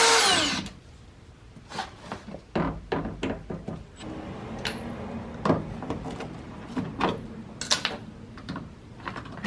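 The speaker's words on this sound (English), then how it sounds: "we're just going to go ahead and remove this factory speaker" Power tool work on a factory speaker in a car door during a car audio overhaul: a series of short, sharp drill bursts and clicks spread across the clip, fairly close and with no talking.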